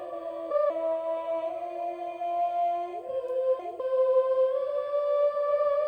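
A filtered choir chorus layer from a hip-hop beat loop, sustained vocal chords holding steady with a few pitch shifts, muffled and smooth, playing alone without talk.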